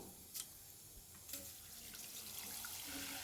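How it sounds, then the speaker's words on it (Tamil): Tap water runs into a sink as rice is washed by hand, a soft steady splash and trickle with faint clinks and swishes of grains and container, quiet and close with no talk. "இப்போ அரிசியை நல்லா வாஷ் பண்ணிவிட்டு தண்ணி ஊற்றி ஊற வச்சுக்கணுங்க"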